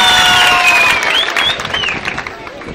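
An audience at a village holiday festival in Turkey breaks into applause for a singer, a dense wash of clapping that starts loud and gradually thins, with a voice and whistle-like tones over it.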